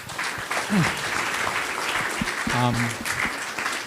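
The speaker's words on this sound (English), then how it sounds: "Please give Pak Prabowo rounds of applause" An audience applauds Prabowo at a presidential candidate's foreign policy speech, continuous clapping with a few voices and a brief tonal sound cutting through partway.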